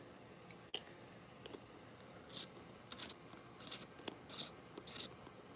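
Green colored pencils are sharpened in a series of short, faint rasping scrapes that come in quick bursts of grinding strokes, with quiet room noise in between and no talking.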